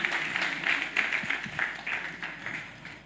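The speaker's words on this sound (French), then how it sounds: "Je vous demande d'applaudir encore pour tous les quatre qui sont passés tout à l'heure." An audience applauds at a workshop in Cameroon, a brief round of quiet, scattered hand claps with an uneven rhythm that fades out after a few seconds.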